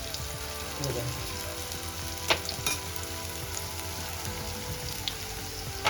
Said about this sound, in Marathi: तेल चांगलं तापलंय. डावांना असं चांगला असा पसरवायचा, म्हणजे पातळ करायचा.